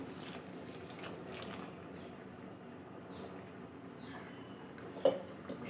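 A coconut-flower lehyam mixture with coconut milk bubbles in a pan, making a faint, steady simmering burble with soft liquid ticks and one brief louder pop near the end.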